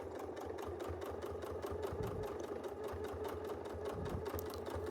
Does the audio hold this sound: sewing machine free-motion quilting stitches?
yes